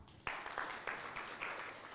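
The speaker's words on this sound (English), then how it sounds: "Let's clap for her." A small audience at a business program launch for manufacturing SMEs claps, faint and sparse, with a few distinct rhythmic clap bursts over two seconds.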